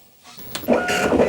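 An Apple ImageWriter printer attached to an Apple IIgs printing, starting quietly then rising into a steady, close mechanical buzz and chatter of the print head that continues to the end.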